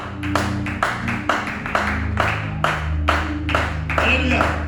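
A church congregation claps in rhythmic bursts of roughly one beat per second, with sustained organ or keyboard tones and singing voices underneath throughout.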